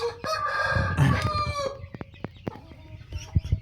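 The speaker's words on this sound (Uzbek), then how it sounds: "Bular xo'rak." A rooster crows close by, one long strained call, followed by scattered clucks and small knocking sounds from the coop.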